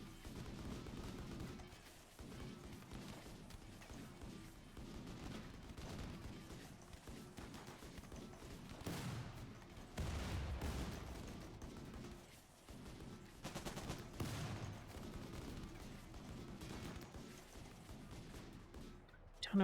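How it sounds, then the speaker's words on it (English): Battle gunfire from the video game RimWorld, faint and fairly distant, a dense, irregular stream of shots and bursts with a few heavier thumps running steadily for about twenty seconds. "We are getting some shots off."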